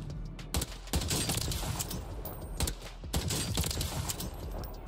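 Bursts of gunshots in the video game Warzone Rebirth, loud clustered shots separated by short gaps, over a steady bed of game ambience.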